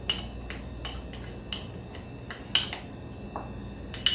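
Minced garlic and butter mashed into a paste in a small bowl: a series of sharp utensil clicks and taps against the bowl, irregularly spaced and close, with no talking.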